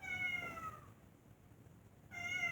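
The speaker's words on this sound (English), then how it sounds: "My cat now gets fed twice a day, and she's manipulative, so anytime somebody comes into the kitchen, she asks for food." A pet cat meows for food in a kitchen, a couple of short tonal cries near the start and again at the end with a quieter gap between, close and fairly faint.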